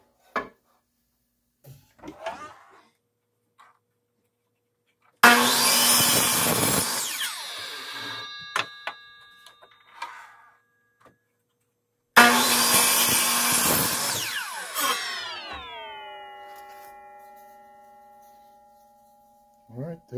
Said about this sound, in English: now I'm at the chop saw,